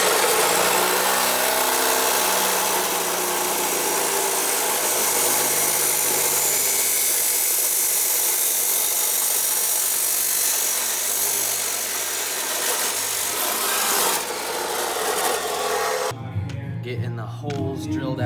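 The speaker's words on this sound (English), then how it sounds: "cut a 51-inch piece off of this square tubing here" A 51-inch piece cut off square metal tubing with a power saw: a loud, continuous grinding roar that holds for about sixteen seconds, then drops away into quieter handling noise.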